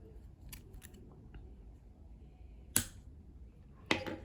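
Scissors snip crochet yarn nearby: a few faint light clicks, then two sharper distinct cuts spaced about a second apart in a quiet room.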